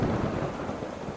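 Thunder rolls through a storm in the video game Eternal Hope, a loud, dense rumble that fills the whole moment, with rain hiss underneath.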